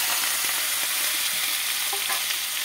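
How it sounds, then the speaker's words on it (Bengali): Fish frying in hot oil in a wok gives a loud, steady sizzle and crackle that holds evenly throughout the short stretch, close by, with no talking. "আমরা এখন মাছটা দিয়ে দিচ্ছি কড়াইতে।"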